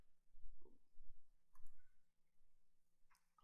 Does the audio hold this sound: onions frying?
no